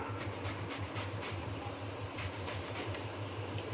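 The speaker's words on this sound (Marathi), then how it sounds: "आपल्याला या पद्धतीने जाड किसणीनेच तो किसून घ्यायचा आहे" Raw mangoes are rasped on a coarse grater in a home kitchen, giving a quiet, steady series of rhythmic scraping strokes with no voices.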